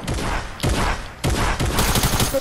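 Rapid bursts of gunfire from a Fortnite zone wars match, loud and close, in three dense volleys with brief gaps between them.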